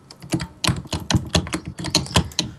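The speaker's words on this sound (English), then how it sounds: "Brand, your keyboard bashing, like, it's real loud on your mic." Loud computer keyboard typing picked up on a gamer's mic during a Minecraft Hunger Games match, rapid uneven bursts of close, sharp key clacks with no talk over them.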